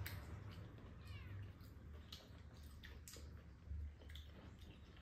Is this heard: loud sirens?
no